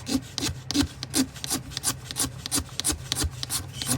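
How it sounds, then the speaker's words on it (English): A piece of antler is scraped with a blade to raise shavings, repeated rough rasping strokes in an uneven back-and-forth rhythm, close and alone. "I got this piece of antler, and I'm just going to scrape off some"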